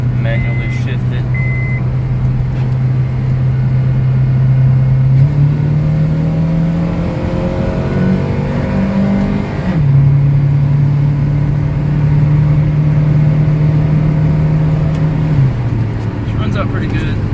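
A 2005 Honda Civic ES2 sedan with an automatic K20A3 engine drones steadily from inside the cabin, its pitch climbing then stepping down as it shifts gears, twice over about seventeen seconds.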